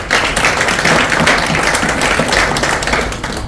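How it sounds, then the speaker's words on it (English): Dense, loud applause fills the room at a Toastmasters club meeting, a continuous rattle of many hands clapping together that holds steady for several seconds before starting to thin out. "Take a round of applause,"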